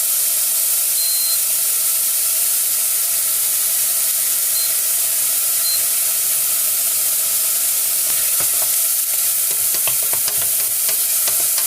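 Onion frying in a pan for risotto, a steady soft sizzle and hiss running throughout, with a few stirring scrapes and clicks toward the end, no talking.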